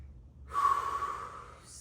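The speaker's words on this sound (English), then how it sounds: "1 more deep breath" A deep breath taken during a shoulder stretching exercise: a brief silence, then a close, airy inhale swelling and easing off over about a second, heard alone.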